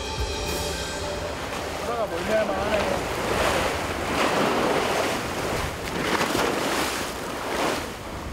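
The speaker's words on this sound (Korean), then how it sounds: "시간이 지날수록 바다는 깊어지고 파도는 더 거세지고 있습니다." Rough open sea with waves about four metres high during a long-distance ocean swim, heard as a steady broad roar of surf and wind buffeting the microphone throughout, with faint tonal sounds early on.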